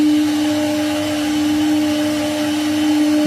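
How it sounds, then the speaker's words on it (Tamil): An Agara nut milk maker grinds coconut with a loud, steady motorized whine and a constant, unbroken hum from start to finish. "ஸோ இது இதே மாதிரி ஒரு 7 நிமிஷத்துக்கு நொயின்னு சத்தம் போட்டு வரும்."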